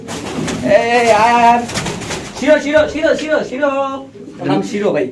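Pigeons coo close by in repeated throaty, rolling calls that overlap in several bursts, with voices faintly in the background.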